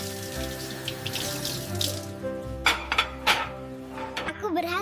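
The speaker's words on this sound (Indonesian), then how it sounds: "Sekarang bilas semua gelembungnya" Tap water runs over dishes as soap bubbles are rinsed away, a continuous splashing stream broken by a few clinks of dishware near the end, with speech mixed in.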